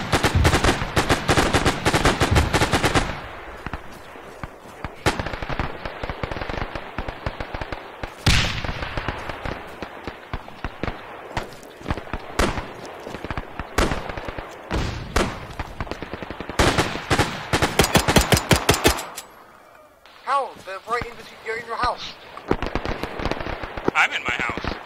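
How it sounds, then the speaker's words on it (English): Dense bursts of rapid automatic gunfire in the ArmA 3 military shooter, loud and close, with repeated volleys broken by brief lulls and a quieter stretch near the end, mixed with a voice speaking over the shooting. "I'm being shot at."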